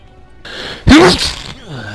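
A single sharp sneeze bursts out close by, loud and abrupt, with quiet room noise before and after.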